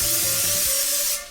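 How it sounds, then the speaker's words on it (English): Cooking spray hisses from a can into a pan in one steady, close, loud burst that lasts about a second and then tails off. "I'm adding a little bit of more cooking spray."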